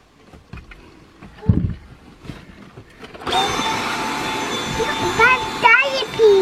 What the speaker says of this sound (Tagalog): Kunin ko lang yung vacuum.